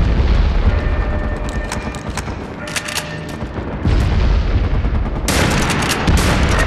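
Incoming mortar shells explode in the online shooter game MAG, loud broadband blasts and rumbling booms layered over constant battlefield din, with a fresh heavy burst near the end.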